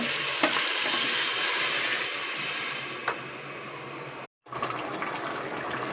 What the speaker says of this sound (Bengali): এই যে মাছটা মশলার সাথে কষানো হয়ে গেছে, এখন আমি ঝোল দিয়ে দেবো।